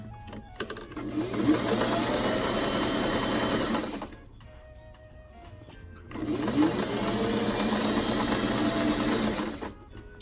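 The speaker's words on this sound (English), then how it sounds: "I'm gonna go ahead and put an easing stitch in across the cap." A sewing machine runs an easing stitch across a sleeve cap on a 1920s dress mock-up, two steady whirring bursts of several seconds each separated by a quiet pause, close and loud.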